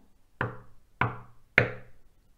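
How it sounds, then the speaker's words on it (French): Three distinct knocks on a door, evenly spaced about half a second apart, each a sharp, fairly close rap against quiet surroundings. "qui frappe à la porte"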